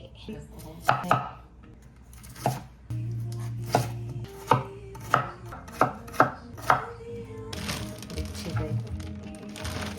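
Bitter gourd being chopped with a knife on a board, a run of crisp, evenly spaced close chops with short pauses between bursts, loud against a quiet kitchen background.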